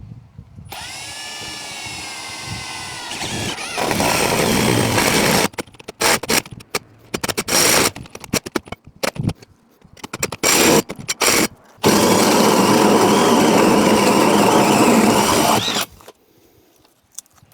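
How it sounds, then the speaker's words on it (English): A power drill fitted with a 3-inch hole saw bores through a brand new roof between rafters, loud sustained grinding runs broken by a choppy stretch of short stop-start bursts, then a final long continuous cut before the motor stops. "It's never a good feeling when you gotta go and drill a 3-inch hole in your brand new roof."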